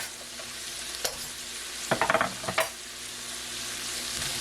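Onions and minced garlic with salt sauté in a pan for Spanish rice, a soft steady sizzle punctuated by a cluster of quick stirring scrapes and taps, close and fairly quiet.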